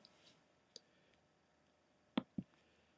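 Computer mouse clicks while editing in IEP Assistant Pro software: a faint single click early on, then two sharper, louder clicks close together near the end, set in a quiet room.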